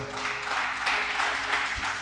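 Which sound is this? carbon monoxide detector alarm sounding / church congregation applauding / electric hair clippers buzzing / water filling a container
church congregation applauding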